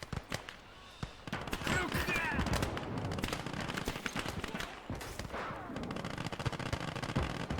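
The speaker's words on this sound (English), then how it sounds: "Some of them getting blasted by the HE shells of the German guns." High-explosive shells from German guns bursting among Russian infantry in the Gates of Hell battle game, Second Battle of Kharkov: a dense, continuous barrage of booming blasts and crackling gunfire, loud and close throughout.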